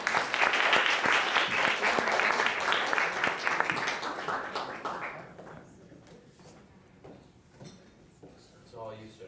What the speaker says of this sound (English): So let's give a round of applause for Liam Kerwin from the Browning School